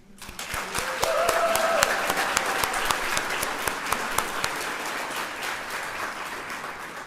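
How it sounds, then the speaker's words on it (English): An audience at a nursing pinning ceremony claps steadily for families and friends, a loud sustained round of applause with sharper individual claps standing out, tapering slightly toward the end. "your families, loved ones, and friends also deserve an applause"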